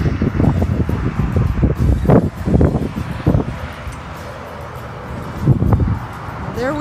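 Strong wind buffets the microphone in loud, gusty rumbles, with rustling and flapping noises throughout.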